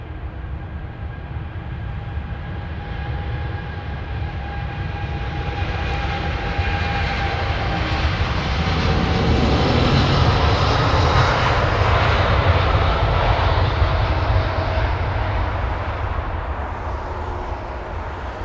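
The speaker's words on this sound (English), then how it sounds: "Reversers deployed even before the front wheels touched down." An Airbus A350 jet landing at London Heathrow with thrust reversers deployed: a loud, sustained engine roar that swells and broadens midway as reverse thrust builds, then holds steady, with no voices.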